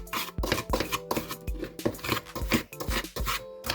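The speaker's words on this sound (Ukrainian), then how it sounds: "Перемішуємо до однорідної маси." Bath bomb mixture being stirred by hand until smooth, giving a steady run of rhythmic scraping and rubbing strokes, close and fairly loud, with no talking.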